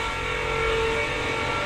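A Chevrolet Camaro engine runs in a workshop, a steady close mid-pitched drone with a slight rise in revs over a brief stretch, no voices.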